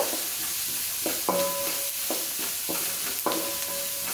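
Onions sautéing with a little salt in hot oil, a constant sizzle under repeated stirring strokes, including several metallic spoon scrapes and clinks against the pan, close and steady.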